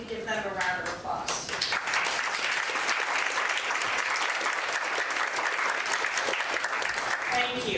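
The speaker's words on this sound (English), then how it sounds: "and if we could give them a round of applause" An audience at a Good Morning Oxnard event applauds the host committee with a dense, sustained round of clapping that fills the hall. The sound is steady and fairly distant, with faint voices mixed in.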